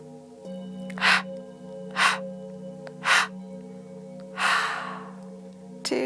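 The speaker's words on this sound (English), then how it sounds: "whooshes out. They're more like big panting" Four forceful breaths whoosh out one after another during restorative yoga breathing, roughly a second apart, the last longer and rougher, over a low steady background hum.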